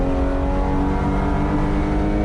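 Car accelerating hard out of a corner at Watkins Glen race track during a track-day lap, a loud steady engine drone heard close from inside the car.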